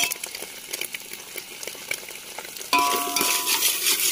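Capsicum, cabbage, chili and coriander stir-fried in a hot pan, a close crackling sizzle with stirring scrapes that surges louder partway through as the pan heats up, with no voices.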